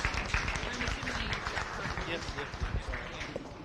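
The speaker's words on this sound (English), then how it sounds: "please give them a nice round of applause" Spectators at a county fair dairy and beef cattle show applaud, a steady dense wash of clapping from a crowd lasting a few seconds at moderate loudness.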